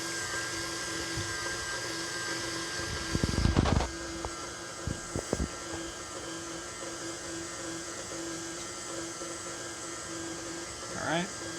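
A handheld electric mixer runs at steady medium-low speed, whipping heavy cream for strawberry shortcake, making a continuous whirring hum with a few brief louder bursts and clatters.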